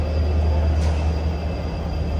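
Steady low rumble of a train at a railway station, a continuous loud hum with rolling undertones and a brief hiss partway through, no voices.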